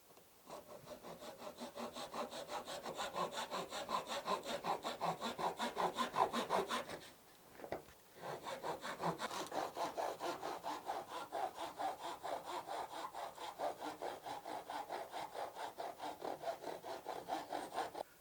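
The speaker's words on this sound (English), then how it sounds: "Using your handsaw, cut roughly on the outside of the line." A handsaw cutting wood for a knife sheath, steady rapid back-and-forth rasping strokes at close range, pausing briefly midway before resuming the same even rhythm.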